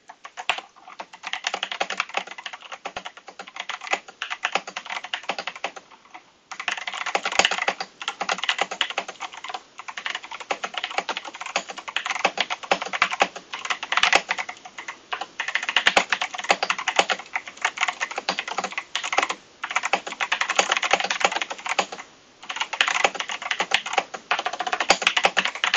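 Fast, continuous typing on an 8BitDo Retro Keyboard 85HE, an IBM Model M clone, with crisp close keystrokes clattering in dense bursts and a few brief pauses.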